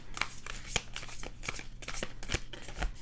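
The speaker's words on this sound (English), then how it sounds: "It's really hard for me to shuffle" Cards are shuffled in quick riffling bursts, crisp flutters and taps repeating rapidly at close range, with no talking.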